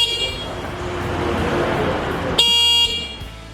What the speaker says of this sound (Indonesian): lalu di bawahnya lagi ada tombol klakson yang suaranya seperti ini